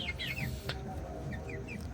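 Soft clucking and chirpy calls from broiler chickens of about 2.5 kg each fill a steady, busy background, with several short rising calls scattered across the two seconds.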